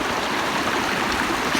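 A flowing hill river stream rushes steadily and close by, a dense, even babble of water that stays constant throughout with no voices over it.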